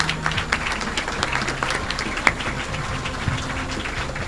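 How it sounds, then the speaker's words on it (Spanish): Church congregation applauding during a Spanish-language sermon, a steady wash of many hands clapping at moderate distance for about four seconds, with no speech over it. "denle un aplauso a él."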